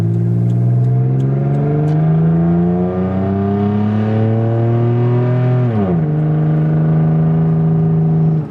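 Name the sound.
Toyota 4Runner engine revving through Flowmaster exhaust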